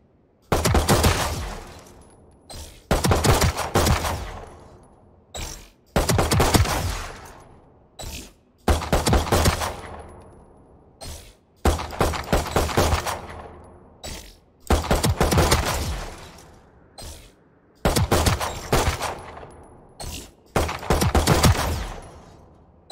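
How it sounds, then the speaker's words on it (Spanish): Classic pistol in the video game Valorant firing, alternating primary and secondary fire: loud, close bursts of gunshots in several separate volleys, each with a short echoing tail and brief silences between. "Vamos a alternar el disparo primario con el disparo secundario"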